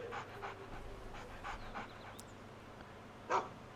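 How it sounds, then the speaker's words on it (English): Dog in the video game Onimusha 2 panting steadily in short rhythmic breaths, then giving a single sharp bark near the end, fairly quiet with no talk. "So it's barking."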